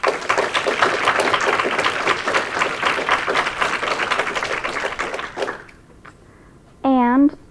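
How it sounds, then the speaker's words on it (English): Lively applause breaks out for a poet at a high school poetry slam, dense clapping that fades out after about five seconds, followed by a brief quiet moment and then a voice speaking. "Can we have one more round of applause for Alara Lane?"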